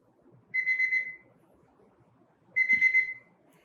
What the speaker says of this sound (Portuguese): Ele também tem um efeito sonoro e também vibrou o smartwatch.